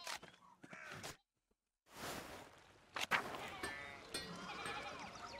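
Sheep bleat in the medieval adventure game Pentiment, a few wavering cries layered with game ambience and light footstep-like sounds, broken by a brief silent gap.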